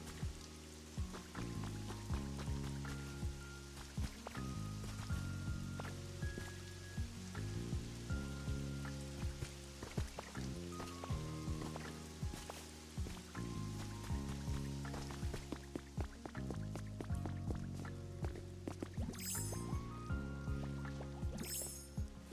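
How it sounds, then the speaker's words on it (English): Rain falls in the video game Pokopia, a steady patter of drops under a soft repeating tonal music bed, even and gentle throughout. "It's just so relaxing with all of the rain sounds."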